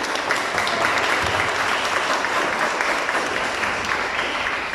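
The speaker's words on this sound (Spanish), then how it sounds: "Les pido un aplauso." An audience at an autism conference in a country events hall applauds to welcome a pediatrician speaker, producing an even, moderately quiet patter of many clapping hands that continues steadily without voices.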